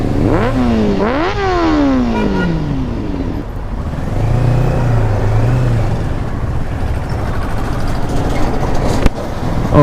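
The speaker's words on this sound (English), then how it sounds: "we're riding the Versys 650." Kawasaki Versys 650 motorcycle being ridden, the engine revving up and down through quick gear changes in the opening seconds, then settling into a steady drone with heavy wind rush over it.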